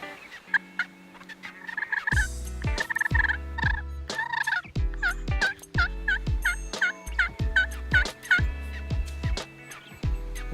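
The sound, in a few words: hunter's turkey call imitating turkey gobbles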